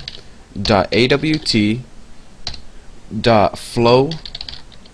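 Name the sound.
typing Java import code on a computer keyboard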